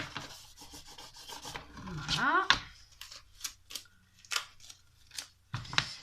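Several short crisp snips and rasping cuts with scissors through material while making a small DIY case, separated by brief pauses, close by, with a voice speaking briefly.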